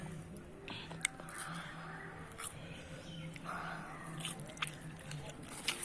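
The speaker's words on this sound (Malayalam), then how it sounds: "നമുക്ക് ചാമ്പക്ക ഉടനെ ഇപ്പോൾ നമുക്ക് കഴിക്കാം" Crunchy bites and steady chewing of rose apple (chambakka), close and fairly quiet, repeating in small bursts over a low hum, with soft murmured voice in places.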